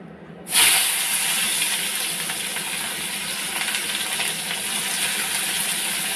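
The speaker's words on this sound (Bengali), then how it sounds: "গরম হয়ে গেছে ভালো করে আবার পেঁয়াজটা দিয়ে দেবো" Chopped onion hits hot spiced oil in a home kitchen pan with a sudden loud burst of sizzling, then settles into a steady, bright, crackling fry that holds close and even throughout.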